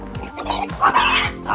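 A recently weaned piglet, only a few days past separation, lets out loud, shrill squeals and grunts while being picked up, in several bursts at close range.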